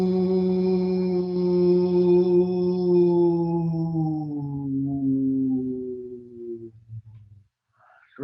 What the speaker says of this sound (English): This is called the VOO breath or the VOO hum.